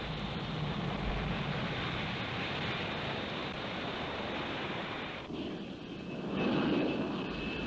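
Harrier jet aircraft approaching a ship's deck, heard as a steady broadband engine roar blended with wind and sea noise, with a brief dip and then a swell as it passes.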